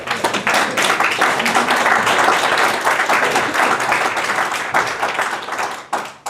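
Sustained audience applause, dense clapping from many hands that holds steady and then thins out near the end.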